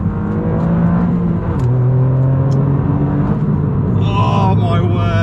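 Modified Toyota GR Yaris engine running near and loud with a throaty, shifting drone that steps down in pitch as revs change, with a voice speaking over it toward the end.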